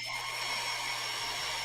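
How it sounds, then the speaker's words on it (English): Hair dryer blowing on a plastic model kit, a steady, even airy whir with a constant hum, unbroken across the short stretch and at moderate level. "Is that hairdryer really loud and annoying?"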